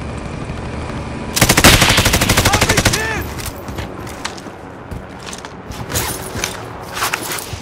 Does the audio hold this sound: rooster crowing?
no